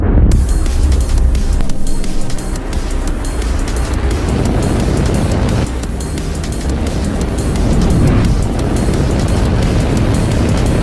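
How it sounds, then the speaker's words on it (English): A SpaceX rocket lifting off on a launch carrying 53 Starlink satellites, a loud, dense, continuous roar with crackling rumble that swells and holds throughout, heard alone without voices. "Launch auto sequence has started. 6, 5, 4, 3, 2, 1. Go for launch."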